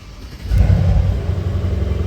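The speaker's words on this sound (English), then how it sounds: "Let's get her started up. All right, let's go, boys. Cold start," A 2023 Porsche 911 Carrera GTS Cabriolet cold-starts: quiet at first, then a loud low rumble bursts in around the half-second mark and settles into a steady, throbbing idle.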